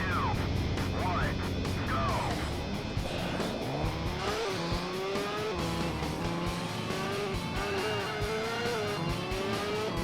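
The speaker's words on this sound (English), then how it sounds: "You can drift on the bike, by the way." A motorbike drifting in the PS2 game Jacked: a continuous engine whine with rising and falling pitch, steady and loud, with tire screech, and someone talking over it throughout.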